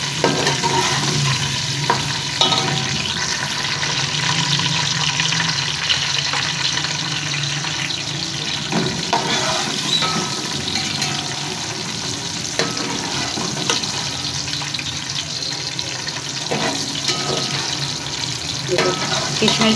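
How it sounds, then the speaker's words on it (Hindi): A rice tempering (tadka) with raisins and fennel fries in a pan, a steady close sizzle broken by clinks and stirring scrapes, with some running-water noise and no talking. "अब चावलों का तड़का तैयार कर लेते हैं, फिर इसमें शीरा डाल दूँगी।"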